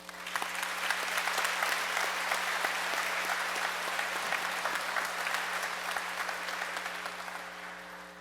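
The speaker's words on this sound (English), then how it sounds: "I feel they deserve another round of applause." Sustained applause from a graduation audience, broad and steady across the whole stretch with dense overlapping claps that fade slightly toward the end.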